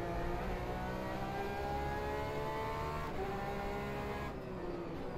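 A Porsche 911 RSR race car engine in rFactor 2 at Targa Florio holds a loud, steady high-revving drone from start to finish, pitch shifting slightly through gear changes, heard close with no talk.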